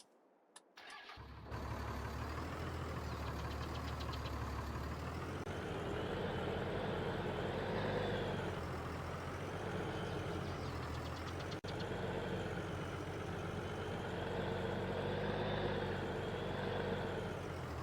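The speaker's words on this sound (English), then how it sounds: "So we can go ahead and pull our truck in." A truck engine in Farming Simulator 22 starts up and then settles into a steady, loud idle, with a low rumble that holds through to the end and no talk over it.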